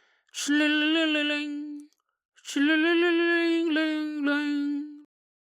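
A human voice imitates rattling tin with two drawn-out, buzzing vocal sounds separated by a short pause, close and clear.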